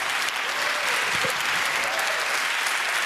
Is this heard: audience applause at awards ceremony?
yes